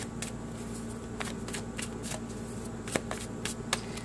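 Tarot cards are shuffled quietly with soft, irregular riffling flicks and taps over a low steady background hum.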